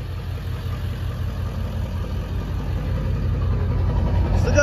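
A 1999-2003 Ford F350 truck engine runs at a steady, deep, rumbling idle up close after repairs to its wiring harness, with a faint click right at the end.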